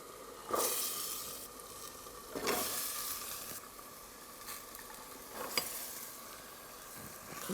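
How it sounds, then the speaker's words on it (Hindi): Mixed vegetables fry in a pan with a steady, moderately loud sizzle, broken by a few bursts of stirring and scraping spaced a couple of seconds apart; no one speaks. "5 मिनट तक फ्राई करना है।"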